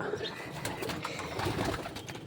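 A pigeon named Whitey, a bred bird entered for a ring race, coos in low repeated calls, steady and fairly close, with a faint murmur of background noise throughout.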